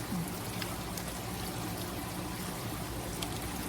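Apple cider poured steadily from a container, about a cup's worth, as a continuous close splashing trickle lasting several seconds without a break.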